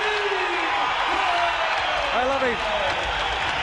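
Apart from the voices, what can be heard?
Melbourne crowd roaring at the Glass House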